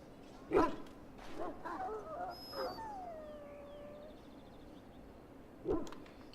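Dog in the video game Dragon Age: Origins whimpering and letting out a few short yelps and barks, fairly quiet, with soft whining tones between sharper cries.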